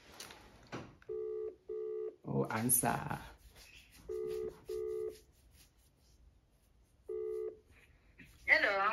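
Repeated electronic phone ring tones in paired bursts sound through a handset, with brief talk and noise between them.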